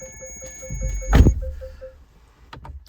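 A car's soft electronic door-open warning chime repeats at a steady, even pace, interrupted midway by a dull door thunk, then a faint clatter near the end.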